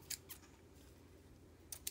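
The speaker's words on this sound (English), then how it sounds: "fabric scissors." Fabric scissors snip faintly in quick pairs, two short crisp cuts near the start and two more near the end, with quiet room tone between them.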